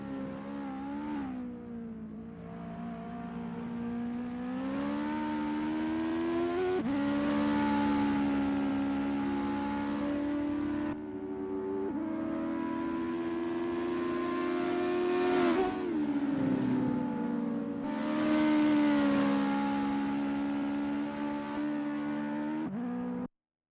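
Engine of a US Legend race car on a practice out lap at Mid-Ohio in a sim racing game, a steady droning tone rising and falling as it revs through gear changes, loud and continuous for the whole stretch with no talk.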